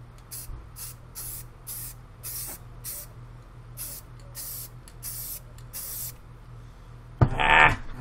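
An aerosol spray can hisses in about a dozen short bursts with brief gaps, then one louder, rattling hiss closes the sequence.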